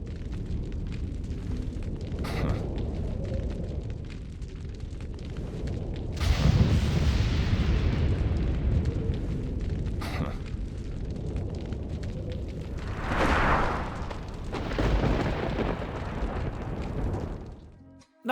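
A weapon being reloaded four times in a row in a video game, heard as repeated mechanical clacks and thuds over a loud rumbling, booming game backdrop, with no talking.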